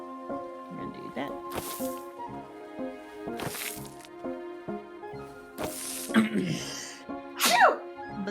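Several sharp sneezes burst out in a row from a nearby person, set among game music with steady sustained tones and a few soft chimes.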